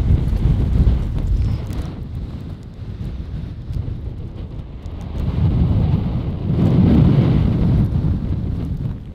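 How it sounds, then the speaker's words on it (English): Strong wind buffeting a mountain ridge on a backpacking trail in Glacier National Park, a loud, continuous low roar that rises and falls in gusts, with no voices. "Hopefully, once we go over this, we'll be protected from the wind."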